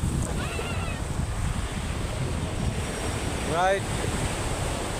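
Rough, choppy sea waves wash continuously around a small fishing boat, a loud steady roar of surf and wind buffeting, with a brief spoken word.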